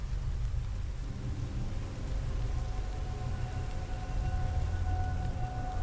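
Thunderstorm sound effect: steady heavy rain hiss with deep, continuous rolling thunder rumbling underneath, dense and even throughout with no voices.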